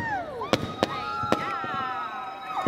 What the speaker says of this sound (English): It's a lot of fireworks.